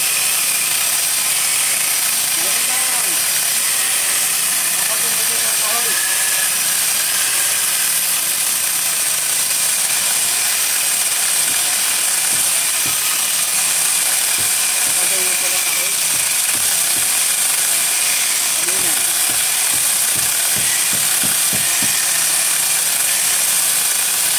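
A grinder on a small boat runs steadily for the whole span, a constant high-pitched whine and hiss, with faint clicks and voices underneath.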